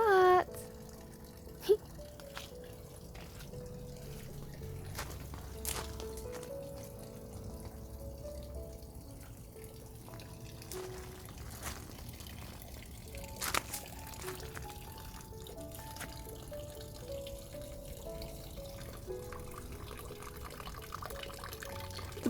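Water runs steadily through a garden pond system, a constant soft trickle and splash that carries on for the whole stretch, with a few faint knocks and rustles on top.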